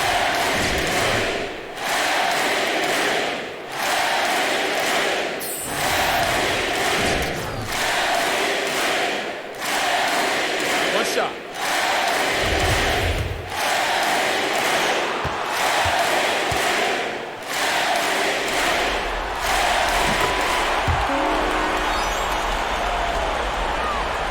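Home crowd in NBA 2K19 roars steadily through the final seconds of a playoff game, a dense, continuous cheer with periodic swells and a few thuds underneath.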